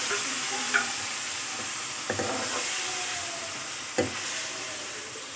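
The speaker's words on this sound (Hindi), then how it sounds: "अब हमारे पास 3 टमाटर हैं, वो 2-3 हरी मिर्चें हैं वो डालेंगे इसमें हम। इनको अच्छी तरीके से भूनना है।" Three tomatoes and a few green chillies fry in a pan for a lentil and spinach dish, giving a steady close sizzle broken by a few sharp spoon stirs and clacks.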